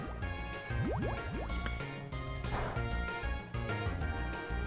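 Cartoonish bubbling and dripping liquid effects from a Pokémon Bubble attack in Pokémon White 2, a dense run of watery blips, pops and rising gurgles over game music.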